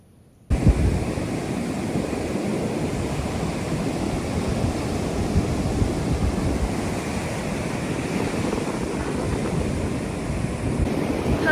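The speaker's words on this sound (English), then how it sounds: "Hi guys from the beach, hope you can hear me, it's really windy." Strong wind buffets the microphone on a Costa Rica beach at sunset while surf roars steadily underneath, a loud continuous broadband rush with no voices.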